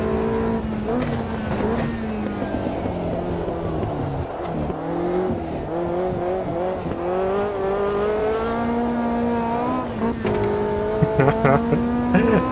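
A race car in the Automobilista 2 sim racer at Indianapolis roars through a chicane, its engine note rising and falling with upshifts and downshifts, loud and continuous, with brief tyre squeal under braking.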